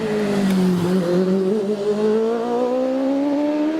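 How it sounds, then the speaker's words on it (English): An OMS 2000M race car at Prescott hill climb practice for the British Championship accelerates steadily, its high engine note rising smoothly in pitch and holding loud and fairly close throughout. "We're watching on screen Gavin McLaren in the OMS 2000M"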